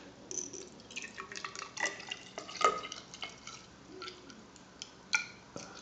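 Apple juice is poured into a container on a kitchen scale, making soft trickling drips and splashes with light glassy clinks, quiet and close, with no talk.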